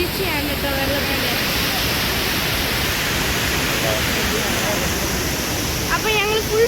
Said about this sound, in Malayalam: ഇവിടെ ഭയങ്കര വീഴ്ചയാണ് കേട്ടോ വെള്ളത്തിന്റെ.